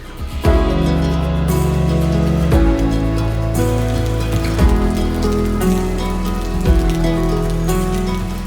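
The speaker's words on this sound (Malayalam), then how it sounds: "മഴ ചാറി തുടങ്ങിയിട്ടുണ്ട്" Steady light rain patters on a surface near parked bikes in Kohima, Nagaland, a continuous hiss of drops with a few louder knocks.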